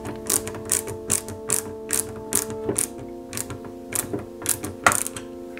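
A screwdriver tightens screws on a Porsche 917KH model kit, giving crisp repeated ratcheting clicks in a quick regular rhythm, close up, with no one speaking.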